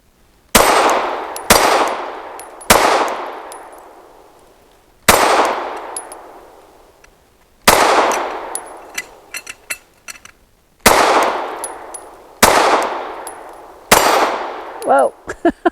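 PSA Dagger Micro pistol firing 124 grain rounds, eight sharp, loud gunshots in an uneven sequence, each ringing out with a decaying echo, with faint metallic pings between shots.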